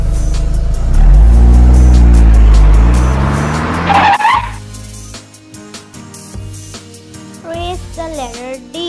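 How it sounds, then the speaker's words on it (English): A car roars past at speed with tires squealing and skidding, the engine loud and close before fading, followed by more scattered engine and road noise. "C is for car."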